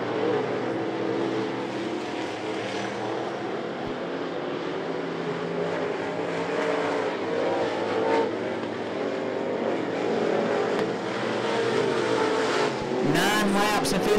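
Race cars at I-75 Raceway during a race, engines roaring steadily in a loud, continuous drone with cars passing and revving, under a track announcer's voice.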